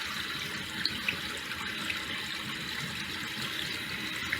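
Water runs from a bathroom tap to soak a warm washcloth, a soft, even stream heard moderately close with a few faint clicks and no speech.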